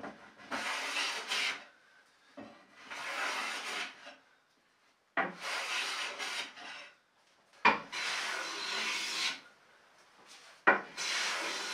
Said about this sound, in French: On va commencer par le raboter pour voir un peu à quoi il ressemble cet acajou.